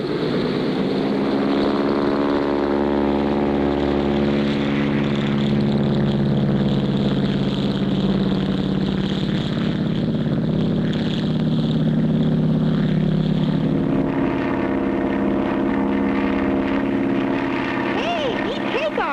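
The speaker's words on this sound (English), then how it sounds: "Hey, neat takeoff, Clutch." Propeller bush plane from a cartoon roars through its takeoff, a loud sustained engine drone whose pitch shifts and climbs before easing off near the end.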